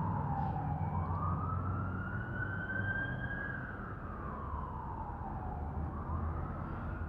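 A fire engine siren wails, rising and falling slowly over a steady rumble of road traffic, heard from some distance, with no talking.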